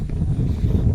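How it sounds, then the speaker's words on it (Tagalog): Strong wind buffets the microphone outdoors beside a deep well pump, a steady low rumbling roar that lasts throughout with no clear break. "Lakas ang hangin mga kabokals."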